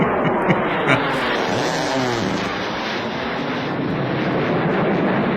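An F-15 Eagle fighter jet roars steadily and loudly, a broad sustained engine rush with no voices over it.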